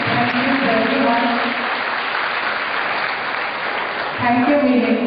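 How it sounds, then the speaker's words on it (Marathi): Sustained audience applause at a 'Save Girl' seminar run by Young Star Trust fills the clip, with a voice speaking over it at the start and again as the clapping fades near the end. "आपण टाळ्या वाजवूया."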